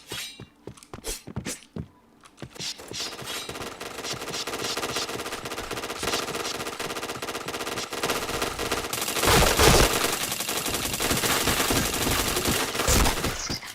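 Rapid automatic gunfire from a first-person shooter video game, dense bursts and single shots tumbling over one another, loud and continuous from start to finish and swelling heavier near the end, with no talk over it.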